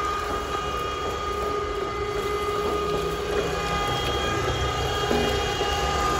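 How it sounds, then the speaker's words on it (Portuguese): A 6x8 sugarcane mill from Piauí with a planetary drive and a three-phase 5 hp electric motor running, giving a steady mechanical hum and whine with faint rattling, constant and close, with no one speaking. "Planetário, motor trifásico 5 cavalos."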